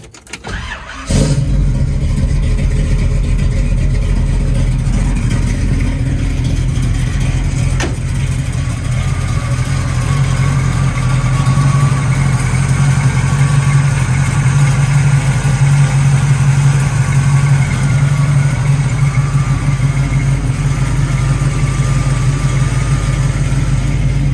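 A 1967 Chevrolet Camaro is cold-started with a short crank, then settles into a loud, steady V8 idle rumble that continues close by for over twenty seconds.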